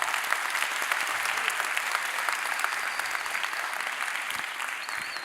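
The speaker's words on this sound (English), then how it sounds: "So a round of applause." Sustained applause from a lecture audience thanking volunteers after a demonstration at a science talk, steady dense clapping throughout at moderate distance with no voices over it.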